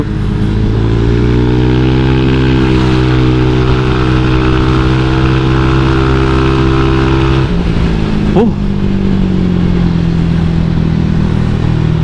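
A loud motorcycle engine drones steadily, then its pitch shifts abruptly as it changes gear and keeps pulling, with a harmonic-rich, buzzing tone throughout.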